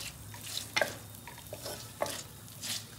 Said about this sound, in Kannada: ಜಸ್ಟ್ ಹಿಂಗೆ ಸ್ವಲ್ಪ ರೋಸ್ಟ್ ಮಾಡ್ಕೋಬೇಕು. ಕಡಿಮೆ ಉರಿ ಕೊಟ್ಕೊಂಡೆ, ಕಮ್ಮಿ ಉರಿಲೆ.